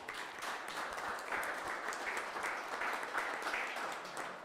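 Steady applause from an audience at a talk by a workers' lawyer, a dense, even wash of many hands clapping that runs unbroken from start to end at moderate volume, with no voices over it.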